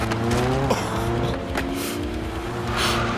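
A car in the video game Skate 2 drives with a steady, loud engine drone while tires squeal and skid over the top, continuous for the whole stretch with no talking.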